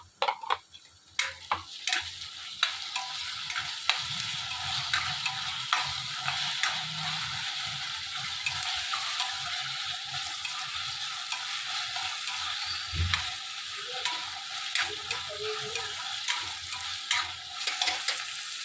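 Chopped onions and tomatoes sizzle steadily in a pan for a long stretch, with frequent scraping and clicking strokes of a spoon stirring them, close and moderately loud.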